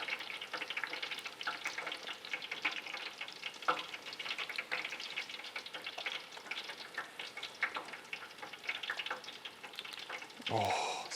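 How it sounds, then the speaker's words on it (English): Donut dough for no-rise German crullers (Spritzkuchen) sizzles steadily in hot oil, a dense continuous crackle with occasional splashes and stirs as the pieces are swirled, close and fairly quiet, no talking. "take the donut, plop it in. I kind of swirl it around so it gets the sides a little bit better"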